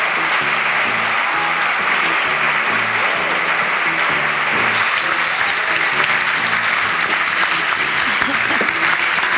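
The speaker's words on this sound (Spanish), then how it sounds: "Un aplauso para ella, por favor." Dense, loud audience applause fills a hall in Chile as author and Guatemalan presidential candidate Gloria Álvarez is welcomed, steady and sustained throughout with a low murmur of voices mixed in.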